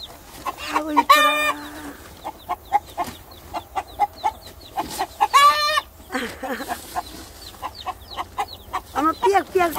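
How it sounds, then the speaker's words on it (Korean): Hens clucking close by alongside newly hatched chicks peeping, with a rooster-like call among them; short bursts of clucks and chirps come in an uneven rhythm with no talk. "닭들이 알 품어서 병아리가 태어났어요"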